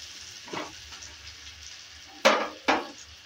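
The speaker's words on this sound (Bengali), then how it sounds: "তুলে নেওয়ার পর আবারও নেড়ে চেড়ে নিচ্ছি।" Potatoes fry in a pan with the lid lifted off, giving a faint steady sizzle and two sharp stirring scrapes near the end.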